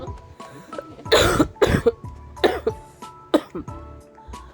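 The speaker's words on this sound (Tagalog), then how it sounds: "Katulad niyan, hanggang ngayon, ubong-ubo ako." Several harsh, wet coughs come in irregular bursts, close and loud, with throat-clearing between them, from a person with breathing trouble.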